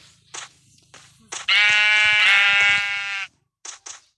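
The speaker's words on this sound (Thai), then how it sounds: "ผมสอนทำแกะเรนโบว์" A rainbow sheep in Minecraft lets out one loud, sustained nasal bleat of almost two seconds, framed by a few short clicks and faint game sounds before and after.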